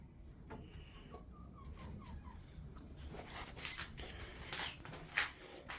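Hens in a chicken coop make faint, short clucks in a quick run early on, followed by scattered rustling and scratching at low volume.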